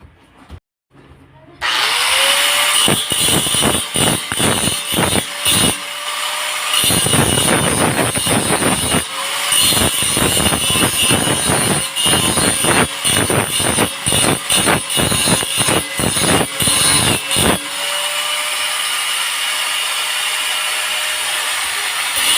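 Angle grinder working stainless steel weld seams on a homemade stainless grill, starting after a brief quiet moment and running loud and close in repeated stuttering bursts of buzzing, rasping grinding for most of the stretch.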